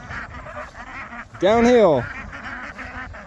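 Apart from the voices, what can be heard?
ducks quacking while being herded downhill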